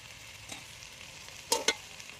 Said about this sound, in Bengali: এবার আমি এই মানে পাস্তাটা দিয়ে দেবো